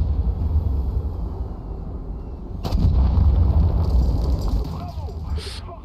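In a video game, a Leclerc tank cannon fires at a T-72 tank, giving one loud blast midway over a steady engine rumble.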